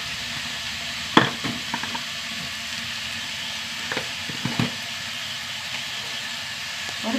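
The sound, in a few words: eggplant and tomato sautéing in a pan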